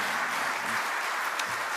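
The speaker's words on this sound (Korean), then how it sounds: "박수 한번 합시다" A church congregation applauding at an early morning service, a brief, soft, steady patter of clapping that sounds somewhat distant.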